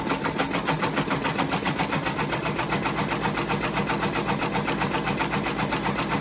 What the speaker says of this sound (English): And I slowed down my machine also, for those that are curious.